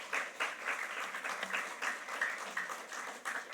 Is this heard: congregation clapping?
yes